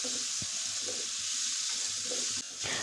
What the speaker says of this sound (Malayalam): നമുക്ക് ആ അരിഞ്ഞു വെച്ചിരിക്കുന്ന നേന്ത്രപ്പഴം ഇതിലേക്ക് ഇട്ട് കൊടുത്ത് നല്ലതുപോലെ ഒന്ന് വഴറ്റിയെടുക്കാം.